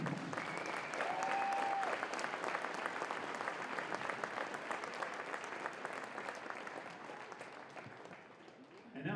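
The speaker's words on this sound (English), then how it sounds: "How about a round of applause for our seniors?" Crowd at a Pulaski vs Ashwaubenon high school wrestling meet applauds its senior wrestlers, a dense, steady wave of clapping that fills the gym for about nine seconds, with a brief whistle early on, tapering slightly near the end.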